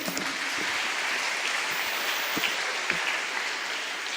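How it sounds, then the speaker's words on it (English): Audience applause at a school investiture ceremony, a broad, steady wash of many hands clapping, dense and continuous with a few sharper individual claps poking through. "A huge round of applause for them, please."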